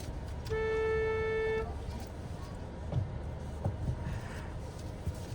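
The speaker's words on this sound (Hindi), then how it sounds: "हॉर्न दीजिए।" A car horn gives one steady honk of about a second in a narrow lane over the low rumble of a running engine, followed by faint knocks and road noise.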